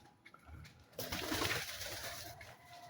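Pigeons in a backyard loft coo softly in a short, low murmuring burst that swells in the middle, close by and without any talk.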